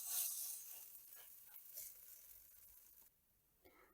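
Quiet sizzling of potato pancakes frying in a small amount of oil, a soft crackling hiss that fades partway through, with a few light scraping sounds.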